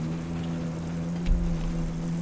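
Steady engine drone of a buggy driving off-road in Battlefield 3, a constant low hum with a brief thump and rumble midway, no talking.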